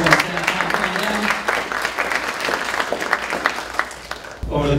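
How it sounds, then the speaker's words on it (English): Audience applause at a youth awards ceremony, a dense wash of clapping sustained for several seconds, fairly loud and steady, with a voice or murmur mixed in early on. "Everybody, let's give a round of applause to Tom"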